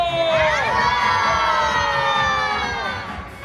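Children in the audience of the State Concert Hall Bashkortostan shout together in one loud, sustained cheer that rises and then gradually fades.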